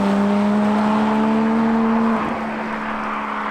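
A Porsche Spyder with a newly fitted exhaust holds a loud, steady droning note close by, then the pitch drops abruptly as the revs fall away to a lower, quieter idle.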